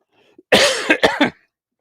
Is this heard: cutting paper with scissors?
no